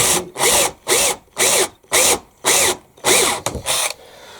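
Close, loud drilling into a dry wooden gate in a regular series of short bursts, each a harsh whirring grind with quick pauses in between.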